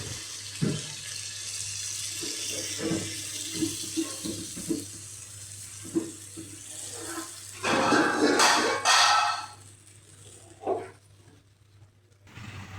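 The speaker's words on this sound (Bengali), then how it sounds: "এই পর্যায়ে পরিমাণ মতো পানি দিয়ে দিব।" Water poured into a cooking pot of duck curry with ash gourd, a loud rushing pour lasting a couple of seconds midway, preceded by quieter kitchen clinks and a steady low hum.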